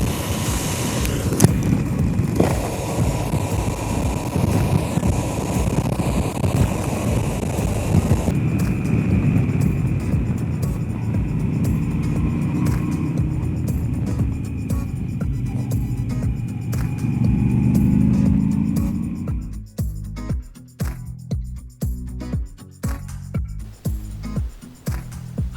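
A Moto Guzzi V85 TT motorcycle rides a mountain road in the Vosges toward the Col du Bonhomme, its steady engine drone mixed with heavy wind rush throughout, turning choppier and more broken near the end.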